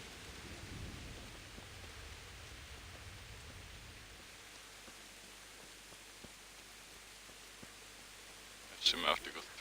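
Steady, faint rain in the video game Kingdom Come: Deliverance hisses softly and evenly throughout, a flat wash of noise, with a brief louder rustle near the end.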